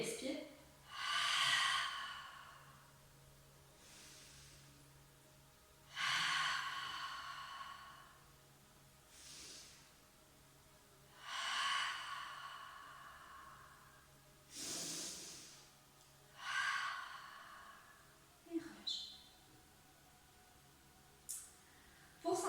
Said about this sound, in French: C'est une respiration périnée-expire qui se fait bouche ouverte pour faciliter la poussée, l'expulsion de l'air et bien renforcer le ventre.